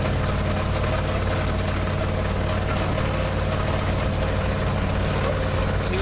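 A 1957 GMC truck engine running rough, a loud, steady low rumble heard close up for several seconds with no talking.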